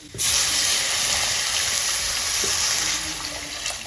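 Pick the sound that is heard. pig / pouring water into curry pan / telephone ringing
pouring water into curry pan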